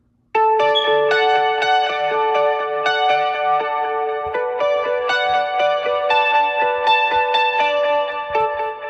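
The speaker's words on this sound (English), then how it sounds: "a guitar that struck me" A clean guitar loop plays a repeating pattern of plucked notes, soaked in reverb, chorus and echo effects for a spacey, shimmering feel, loud and alone with no talking.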